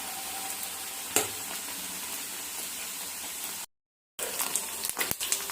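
Gram flour garelu onion fritters fry in hot oil with a steady, soft sizzle throughout, broken by a brief gap and a few light clinks near the end; no one speaks.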